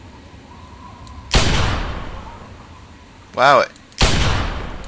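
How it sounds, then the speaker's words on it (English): Two loud scoped magnum shots in Fallout 3, fired at a mole rat, each with a sharp crack and a long decaying tail, separated by a brief warbling game sound and quiet, with a short exclamation. "How dare you make me waste 3 bullets on a mole rat?"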